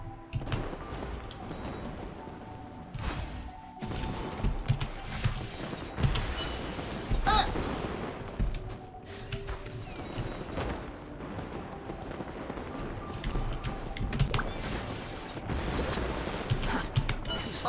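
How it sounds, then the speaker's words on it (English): Fireworks go off in Genshin Impact as a dense, irregular barrage of booming bursts and crackles, with sharp loud pops standing out among layered rumbling blasts over many seconds. "Too many fireworks!"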